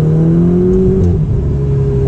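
A car with a seven-speed manual gearbox revs sharply as the driver downshifts into second gear, the engine note swelling and then settling, loud and close with no talking.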